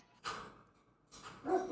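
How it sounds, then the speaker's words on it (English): Neighbour's dog barking next door, two or three muffled barks heard at a distance, separated by short pauses. "You can hear my next door neighbour's dog going off."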